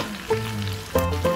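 Bell peppers hitting a pan of frying onion as chicken sweet and sour is cooked, with a steady sizzle that jumps louder twice as pieces are added and stirred, close and without talk.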